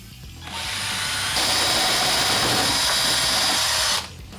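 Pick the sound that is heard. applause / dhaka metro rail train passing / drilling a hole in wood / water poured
drilling a hole in wood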